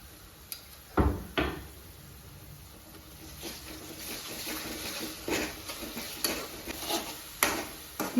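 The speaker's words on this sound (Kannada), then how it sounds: "ಆನಿಯನ್ ಸ್ವಲ್ಪ ಫ್ರೈ ಆದಮೇಲೆ ಜಿಂಜರ್ ಗಾರ್ಲಿಕ್ ಪೇಸ್ಟ್ ಹಾಕ್ತಾ ಇದ್ದೀನಿ" Onion frying in oil with ginger garlic paste in a home-kitchen pan, a quiet sizzle broken by stirring scrapes and a few sharp knocks of utensil against pan.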